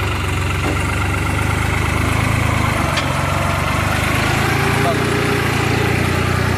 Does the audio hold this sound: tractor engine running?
yes